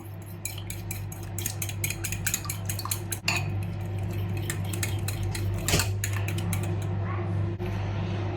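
Eggs being mixed in a bowl for a cold dessert, a steady run of rapid metallic clinks and scrapes of a utensil against the bowl, close and fairly loud, with a couple of sharper knocks.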